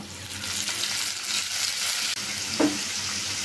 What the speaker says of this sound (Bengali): পেঁয়াজটা যাতে পুড়ে না যায়, এজন্য সামান্য একটু পানি দিব।